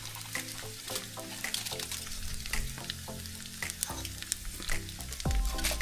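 Dried squid fries in a hot pan with steady, close crackling and sizzling, punctuated by frequent popping spatters and occasional stirring scrapes.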